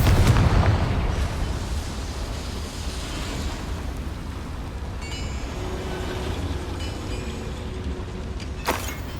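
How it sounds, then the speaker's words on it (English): In Hogwarts Legacy, a Bombarda spell blasts a boiler inside a mine, opening with a loud, close burst that decays into a long rumbling wash of debris, then a sharp metallic snap near the end. "Another boiler. This place is more complex than I had expected. Bombarda!"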